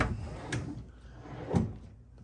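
Wooden dresser drawers in a hotel room are pulled open, giving two dull sliding thumps about a second apart, close by and moderately quiet.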